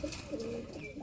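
Pigeons in a loft, a soft throaty cooing that rises and falls in a couple of short phrases, close by and fairly quiet.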